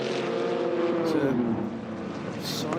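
A Le Mans prototype race car at the 4 Hours of Barcelona engine drones by with a falling pitch as it passes, under continuous commentary speech.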